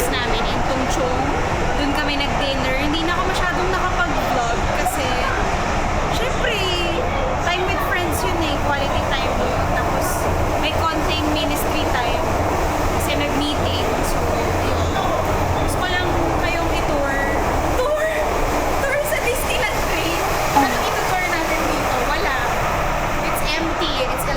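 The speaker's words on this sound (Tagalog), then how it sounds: "I'm here inside the Disneyland train." The Hong Kong Disneyland train rumbles along with a steady, loud interior hum and rattle, while crowded chatter fills the carriage throughout.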